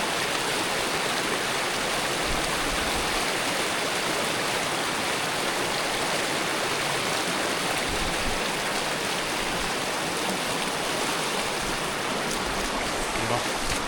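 Rushing river water fills the air with a loud, steady broadband roar during a crossing in a 60 mph storm, continuous and close, with no clear speech over it.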